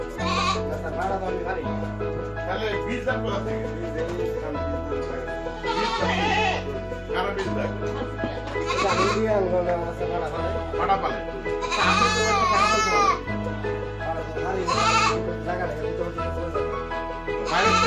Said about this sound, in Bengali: আপনার এখানে তো আপনার এই পাড়া ছাগল দেখতেছেন